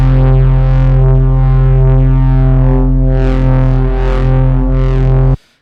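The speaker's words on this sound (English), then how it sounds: "And we have this asymmetric distortion" A synth patch with an FM layer runs through an asymmetric distortion waveshaper, giving a loud, sustained buzzy tone with slowly sweeping overtones that cuts off abruptly at the end.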